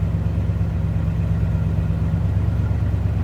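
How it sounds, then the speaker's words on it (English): A stock 1969 Chevrolet Impala convertible engine idling steadily with a low, even rumble, close by and unchanging throughout, with no voices. "Just like a stock 69 Impala should sound."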